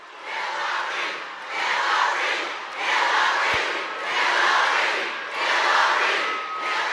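A crowd at a political rally boos in sustained waves of loud noise that swell and ease roughly every second or two, with no clear speech above it.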